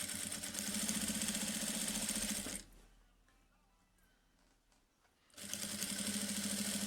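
A sewing machine stitches a fabric placemat, running steadily and loudly for a few seconds, stopping for a quiet pause of nearly three seconds, then starting up again and whirring on to the end.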